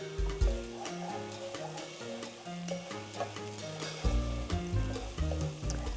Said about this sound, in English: why don't you stir that up a little bit more?